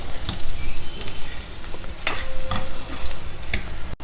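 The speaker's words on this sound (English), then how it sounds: "Mix everything very well so that all the potatoes are coated with the masala." Baby potatoes being stirred in a spicy masala in a frying pan, a steady sizzle with repeated scraping strokes of a spoon against the pan, close and clear with no talking.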